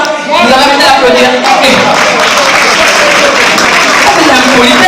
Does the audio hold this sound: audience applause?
yes